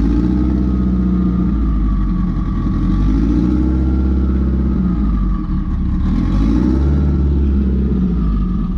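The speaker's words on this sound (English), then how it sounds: "Got the car all started, and as you can hear now, and as you can probably hear before, she's not very happy" Turbocharged car engine with a 6466 turbo idling loudly and unevenly after start-up, a deep throbbing rumble with wavering tones and slight surges, close and continuous with no talking.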